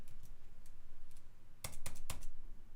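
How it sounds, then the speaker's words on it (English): Someone types a ticker symbol into a search field on a computer keyboard, a few faint scattered taps then a quick cluster of three sharper key clicks, close and alone. "I can actually run a search and I can type Trinity"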